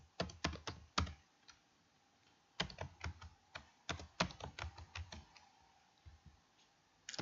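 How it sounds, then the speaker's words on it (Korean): A computer keyboard is typed on in quick bursts of sharp, close clicks, including number-pad entries into a spreadsheet, with a short pause between runs and no talking. "엔터키를 눌러주면서 영어 대문자로 입력을 해보도록 하겠습니다."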